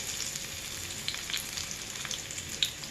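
Onions hiss and crackle in hot oil with curry leaves and cumin, a continuous moderate sizzle with small sharp pops scattered throughout and no one speaking.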